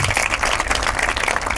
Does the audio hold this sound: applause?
yes